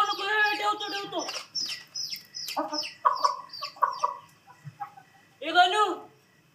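A hen or fowl gives several bursts of clucking calls, fairly near and loud, with short pauses between them. It is heard during a stage play, and a final burst of clucking comes near the end.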